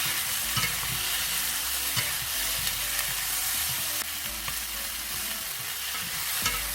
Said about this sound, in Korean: 한 2, 3분 정도 볶아주면 토마토가 익거든요